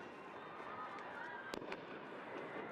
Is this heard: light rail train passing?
no